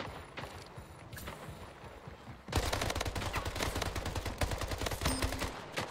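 Gunfire in the arena shooter Splitgate: quieter scattered shots first, then a loud, rapid automatic burst that keeps rattling without pause to the end.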